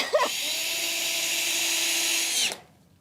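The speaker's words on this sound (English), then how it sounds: "This is the beam we're screwing on" A power drill drives a screw into a floor beam during a home renovation in Spain, one steady high whine running about two and a half seconds after a brief start, then stopping abruptly, close and loud.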